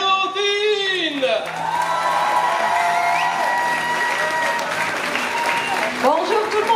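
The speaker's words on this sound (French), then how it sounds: "S'il vous plaît, applaudissez" Audience applause with cheers and whoops at a convention contest, greeting a jury member; steady clapping fills the clip while an amplified announcer's voice talks over it, with a brief musical tone at the start.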